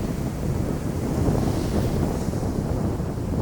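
Ocean waves wash steadily onto a Florida beach with dunes, a continuous broadband roar mixed with wind buffeting the microphone, with no voices.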